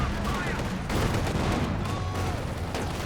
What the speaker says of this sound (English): 25-pounder now firing away